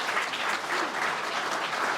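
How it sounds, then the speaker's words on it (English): Steady round of audience applause for new chamber of commerce members at a breakfast business gathering, a continuous wash of clapping from a moderate-sized crowd throughout. "A round of applause for all of our new members."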